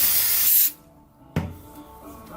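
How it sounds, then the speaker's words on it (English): Carburetor cleaner sprays onto gear parts from a GM 12-bolt axle being re-geared and rebuilt: a loud hissing burst cuts off abruptly, and after a short pause a sharp clunk and a softer, quieter hiss follow. "give them a little soak with some carburetor cleaner and give it a good wipe down"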